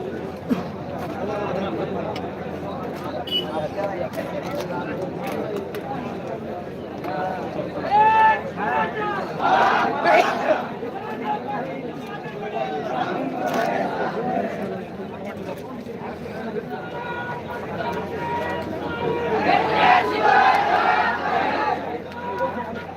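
Large crowd gathered outdoors at a Maratha and OBC dispute site, with a dense murmur of many voices and bursts of louder shouting rising and falling over about twenty seconds.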